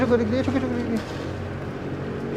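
A motorcycle fitted with an open exhaust pipe rumbles at a steady idle close by, a low throaty drone running under people talking.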